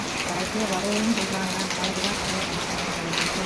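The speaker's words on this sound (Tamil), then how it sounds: "மழை மழை கண்டினியூ ஆகுது" Heavy rain falls steadily during a storm, a continuous rushing hiss of water close by, with a faint voice under it.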